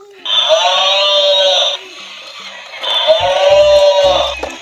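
A spotted toy cow, switched on, plays two loud, drawn-out electronic moo-like calls, each lasting over a second, with a short gap between them and faint handling noise under the second call.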